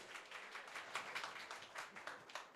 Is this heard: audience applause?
yes